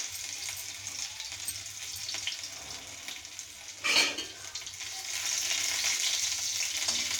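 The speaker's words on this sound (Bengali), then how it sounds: "অদা আগে টিকে ভাজি নেওয়া।" Ginger frying in a pan while making mango pickle, a soft steady sizzle with a brief louder stir or scrape midway, the frying growing slightly louder toward the end.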